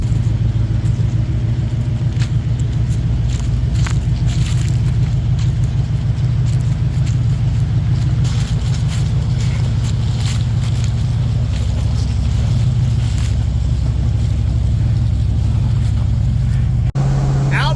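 A 1956 Chevy engine idles steadily on a mild day, a loud, close, continuous low rumble with wind noise over the microphone and a brief knock near the end.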